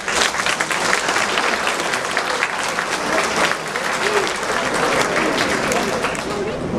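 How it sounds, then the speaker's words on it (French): An audience at a mayor's speech claps in sustained, dense applause, a steady rattle of many hands filling the room, loud and continuous throughout. "Je pense qu'on peut les applaudir."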